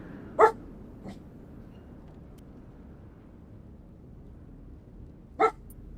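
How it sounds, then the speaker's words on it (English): A dog barks in two sharp isolated bursts about five seconds apart, fairly close and loud, with a fainter yip in between over a low steady background hum. "Crazy dog."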